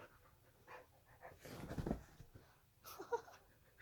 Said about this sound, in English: this is our new puppy, Nora, and that's Hila.